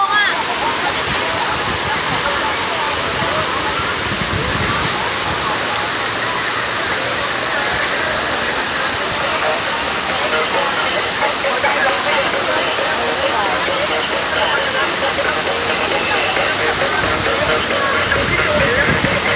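Sai Yok Noi Waterfall in Kanchanaburi Province, Thailand, pours in a loud, steady, close roar of rushing water that holds unbroken throughout.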